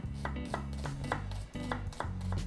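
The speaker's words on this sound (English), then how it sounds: "I'm going to chop 1 onion." A knife chopping an onion on a board, a quick run of crisp, close taps in an uneven rhythm over a low background hum, with no talking.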